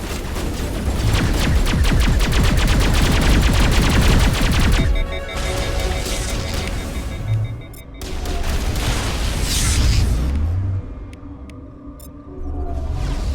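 Mass Effect Legendary Edition firefight inside a lab: dense, rapid automatic gunfire rattles loudly for several seconds, then breaks into scattered shots, booms and rumbling impacts with brief lulls between volleys.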